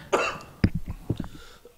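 Someone coughs after smoking cannabis, a short burst of several rough, close coughs following an initial throaty hack, with no talking.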